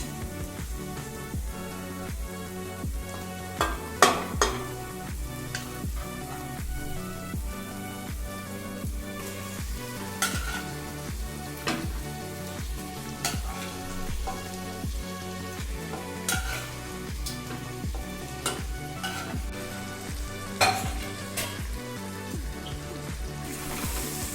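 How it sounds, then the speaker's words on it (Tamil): Marinated chicken fries in a pan for chicken biryani, a continuous close sizzle with scattered pops and periodic scraping stirs of a utensil against the pan. "இப்போ நம்ம மேரினேட் பண்ணி வச்சுருந்த சிக்கனை வந்து சேர்த்துக்கலாம்"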